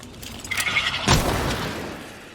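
A single booming video game explosion from Prey bursts out sharply after a faint pop, then rumbles and fades into quiet background noise.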